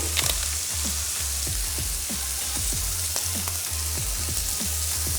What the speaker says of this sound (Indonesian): nah ini ayamnya sudah mulai berubah warna. Kita tambahkan air.